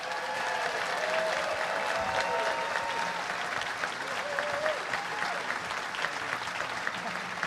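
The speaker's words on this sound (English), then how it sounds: "Big round of applause" Dense audience applause fills the room at a live talk with millionaires, a continuous loud wash of clapping with faint crowd murmur underneath.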